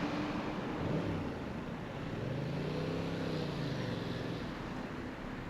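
Yamaha MT-07 motorcycle lane splitting through busy highway traffic, a steady, loud broadband engine and wind roar throughout with rising and falling engine tones as the bike threads between vehicles.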